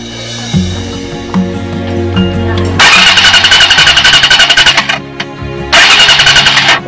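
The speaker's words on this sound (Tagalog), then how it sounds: "itatapat ko dito boss sa may bakal, then i-start natin" Rusi SSX motorcycle engine cranking and being started while its CDI and stator are being worked on, first a low churning attempt, then two loud bursts of rapid buzzing revs separated by a short pause.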